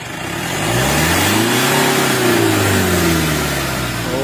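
A Mitsubishi Strada pickup engine, brought back to life after sitting dead for a long time, revs up steadily, holds a high loud drone, then eases slightly, close and continuous.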